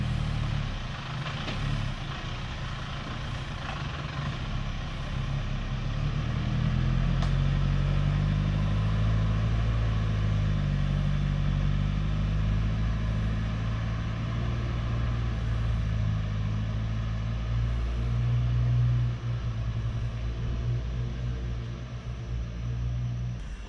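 A farm truck carrying a 5-ton water tank rolling down a steep slope, a steady low engine rumble throughout, moderately distant with faint rattles and no talking.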